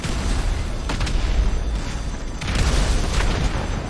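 Explosions in the video game GTA V Online give a sustained, loud booming roar with a few sharp bursts layered over a dense, noisy rumble.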